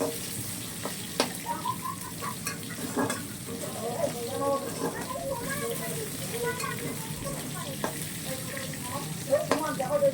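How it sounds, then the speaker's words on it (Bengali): Lightly salted potatoes fry steadily in oil until reddish, with a continuous soft sizzle and occasional clinks of stirring, while a voice talks over it. "আলুটাকে একটু লাল লাল করে ভেজে নেব আমি।"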